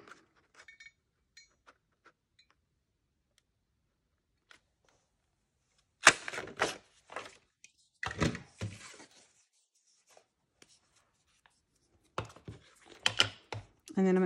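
Paper being cut for a vintage collage, with scattered quiet snips and rustles at first, then louder bursts of scissors, paper handling and clatter near the middle and end, close and without talk.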